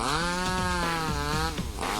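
A chainsaw in the horror video game Mad Father roars continuously, loud and steady with a wavering pitch, dipping briefly near the end.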